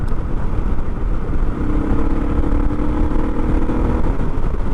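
A Suzuki DR650 with a custom exhaust cruises on a road, its engine holding a continuous, fairly loud mid-pitched drone mixed with wind noise, rising slightly in pitch partway through.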